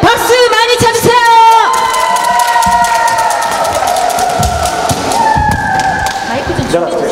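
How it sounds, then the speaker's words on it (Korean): A crowd at a live Korean concert cheers and shouts loudly, with whoops and thumps over sustained voices and tones, a dense, close roar that runs the whole stretch. "같이 토요일 밤에 박수 많이 쳐주세요."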